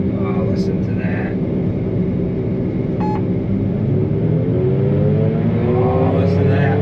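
A forage chopper's heavy engine drones steadily and loudly at close range, its deep rumble holding constant with a brief beep partway through.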